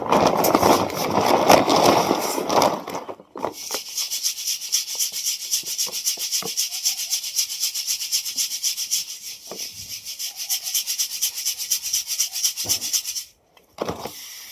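An electric flour mill grinds wheat in a steady, loud, continuous rasping whir, with a few brief clunks and a short pause near the end.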